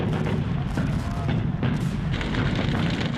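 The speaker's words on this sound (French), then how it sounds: "Mais les canons allemands sont là." German artillery guns fire in Second World War archive footage, heard as a dense, loud barrage of booming blasts that runs without a break.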